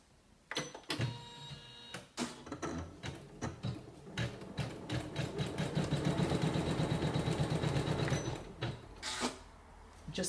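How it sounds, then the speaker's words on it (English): A Janome Memorycraft 9900 sewing machine sews nearby in short starts, then settles into a steady rapid needle clatter for a few seconds before slowing and stopping, with a few clicks around it. "I think we're ready to start sewing"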